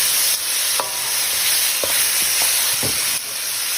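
Halved tomatoes cook over medium-high heat in a pan for pasta primavera, a constant hissing sizzle broken by several scraping stirs and small knocks of the utensil, close by with no talking.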